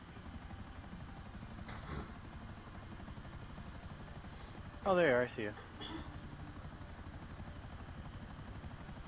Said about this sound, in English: We're in a chopper.